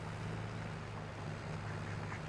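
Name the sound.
ducks quacking, from the video game Farming Simulator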